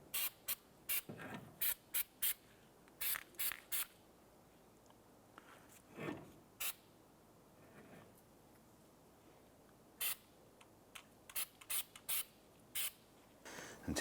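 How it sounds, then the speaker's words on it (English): Anti-seize is sprayed around the wheel hub area of a 2005–2007 Ford Five Hundred in a series of short, sharp hissing bursts separated by quiet pauses, with a few scrapes between them. "I'm going to spray some anti-seize around this area here."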